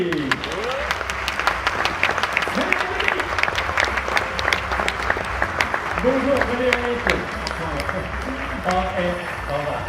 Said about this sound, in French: je vais vous demander de l'applaudir très, très, très fort, car il le mérite